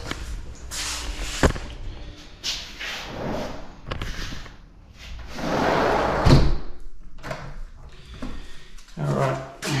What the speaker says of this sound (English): and go and lock the sliding door.